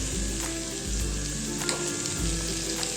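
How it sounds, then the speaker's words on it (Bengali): Cumin and coriander powder frying with tomato in a pan, giving a steady close sizzle under a low hum, with a few soft stirring clicks. "জিরে আর ধনের গুঁড়ো দিয়ে ভালো করে আমি কষিয়ে নেব"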